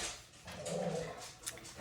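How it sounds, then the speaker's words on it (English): A pet dog whimpers softly indoors, a short faint whine rising and falling over about a second amid quiet room noise. "that's my dog, so I apologize."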